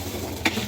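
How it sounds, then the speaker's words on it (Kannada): Two measures of washed, unsoaked rice tip into boiling water in an open pressure cooker for vegetable pulao, making one brief splash over a faint background bubbling. "ಇದಕ್ಕೆ ನಾನು ಅಕ್ಕಿ ಹಾಕ್ತಾಯಿದ್ದೀನಿ."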